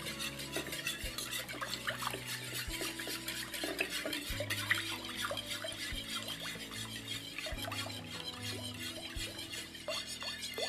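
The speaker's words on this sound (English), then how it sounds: "And then I'm going to whisk my custard mix." Custard mix being whisked by hand in a bowl for a Turkish-style vegetarian dish, a steady run of rapid scraping, clinking strokes that carries on close and unbroken from start to end.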